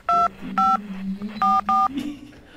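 Telephone keypad dialing tones calling a number, four short sharp beeps in two pairs, with a low voice murmuring underneath.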